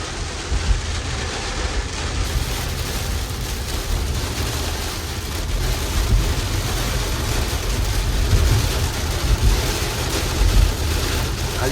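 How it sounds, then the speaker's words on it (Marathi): Heavy monsoon rain drums hard on a moving vehicle on the highway near Virar, a loud continuous roar of pelting water and road noise with swelling gusts and no clear talk. "विरार दसईच्या मध्ये मुसळधार सारखा पाऊस चालू आहे"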